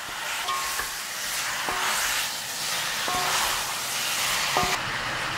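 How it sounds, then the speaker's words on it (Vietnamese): Meat stir-frying over high heat in a pan for a Vietnamese home-cooked dish, a steady broad sizzle running throughout with a few sharp clinks of a utensil against the pan, close and fairly loud with no talking. "Chúng ta đảo đều lên, xào cho thịt nó săn lại."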